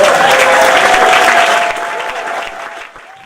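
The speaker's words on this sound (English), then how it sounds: "we all give ourselves a big round of applause" A crowd claps loudly in sustained applause that gradually thins and fades toward the end.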